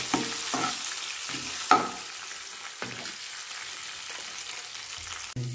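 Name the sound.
curry leaves frying in oil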